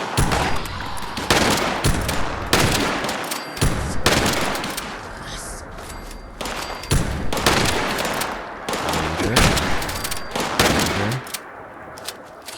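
Rapid bursts of gunfire in a first-person shooter game crack repeatedly across the stretch, loud and close, with short pauses between volleys and some voices talking over parts of it.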